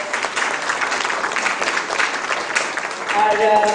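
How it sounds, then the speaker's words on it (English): Applause from a live event audience, a steady dense wash of clapping that swells slightly near the end, with a voice starting to speak over it in the last moments. "big round of applause."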